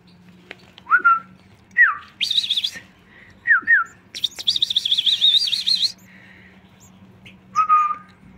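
Goldfinches in an indoor breeding aviary with five-day-old chicks, giving bright chirps and trilling whistled song phrases in separate bursts, close and clear over a low steady hum.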